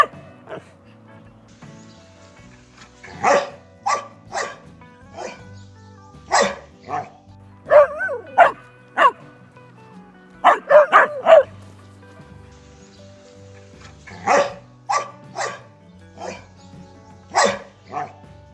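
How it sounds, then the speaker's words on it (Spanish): A dog gives clear, rhythmic play barks with no hostility, in several quick bursts of two to four yaps separated by short pauses, close and fairly loud over a quiet background. "el ladrido de juego es claro, rítmico y no muestra hostilidad"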